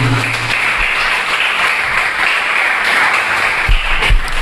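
Church congregation applauding loudly, a dense steady wash of clapping that fills the space evenly throughout, with a few low thumps near the end.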